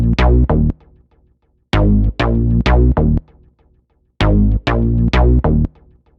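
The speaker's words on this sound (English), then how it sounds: "And this was the synth bass that I started off with." A synth bass line from an FL Studio hip-hop beat plays alone, loud and punchy, in two repeating phrases of short, heavy notes separated by brief gaps.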